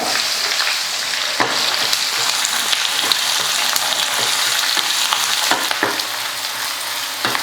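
Continuous loud sizzling of finely chopped onions frying in a hot pan, with occasional crackles and pops and faint stirring, no talking.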